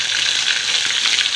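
Green and dried chillies frying in hot oil with mustard seeds, a steady loud hiss and crackle of sizzling with no pauses and no voices.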